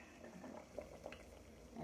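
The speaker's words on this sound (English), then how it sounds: "We have our boiling water." A pot of water at a rolling boil bubbles steadily in a home kitchen while Irish stuffed cabbage is prepared, a soft continuous burble with occasional louder pops, fairly faint and without talk.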